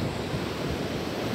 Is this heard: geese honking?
no